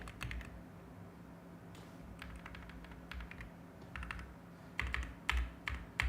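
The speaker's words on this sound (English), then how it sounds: "my typing is so poor this evening" Soft, quiet typing on a computer keyboard comes in scattered bursts of clicks over a steady low hum, pausing briefly between runs of keystrokes, with a few louder taps near the end.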